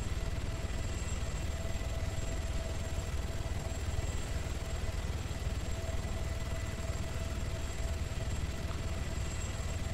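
A helicopter engine in the video game ARMA 3 drones continuously, a steady whirring rotor and turbine hum with a faint high whine, unchanging for the whole stretch.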